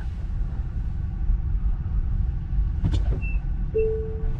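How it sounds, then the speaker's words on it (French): Car brakes squeal briefly, a thin high whine rising over the steady low rumble of the road inside a moving car near an electric-vehicle charging trip, then fading after about a second. "pourquoi mes freins ils grincent?"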